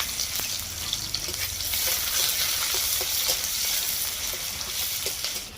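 Chopped onions, green chillies and nigella seeds sizzle in hot oil in a pan. A loud, continuous frying hiss is heard nearby, broken by soft pops and spatters.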